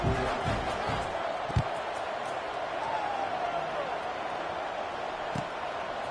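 Steady roar of a football stadium crowd at a Kent State versus Bowling Green game, a broad constant wash of cheering and noise with a couple of brief thumps, no clear voices on top.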